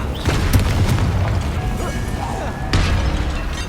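Confringo fire-blast spell explosions in Hogwarts Legacy, with two heavy booms, one early and one late, each followed by a rumbling tail amid game effects and faint voices.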